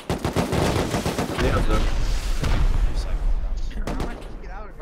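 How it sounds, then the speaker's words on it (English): Rapid gunfire from the survival game Rust during a large base raid, loud and continuous bursts layered with booming shots, while several players talk over the fighting. "Someone was getting shot."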